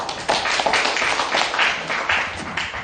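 A lecture audience in a Korean university hall breaks into applause, a dense, steady wash of many hands clapping close and loud throughout, with no talk over it.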